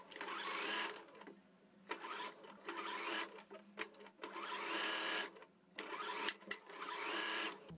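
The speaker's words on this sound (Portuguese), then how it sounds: "A gente vai passar uma costura de meio pé de máquina." Sewing machine stitching a half-foot seam along bias binding on a towel, running in four steady buzzing bursts separated by short pauses, close and alone without talk.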